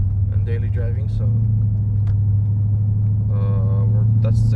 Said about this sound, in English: around between 1600 to 1800 RPM, it has one of the worst drones ever